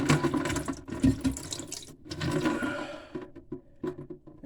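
Water gushes and splashes steadily from disconnected supply lines under a spread-style bathroom faucet during a DIY replacement, a close, continuous running flow with shifting splashy bursts.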